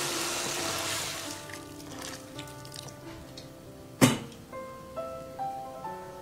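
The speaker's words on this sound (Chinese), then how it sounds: "炒匀后加适量清水没过脊骨" Water pours into a pot over pork spine bones with a soft, splashing rush that fades within a few seconds, followed by a sharp clink and quiet drips over faint background music.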